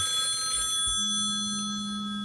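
A telephone rings indoors with a steady electronic tone that holds for a couple of seconds above a low background hum, and nobody speaks.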